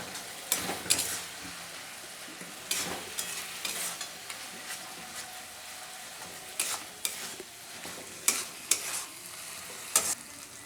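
Chicken curry with turmeric powder is stirred in a hot pan: a steady background sizzle broken by repeated scraping strokes of a spatula, each a brief bright burst, close by with no voices.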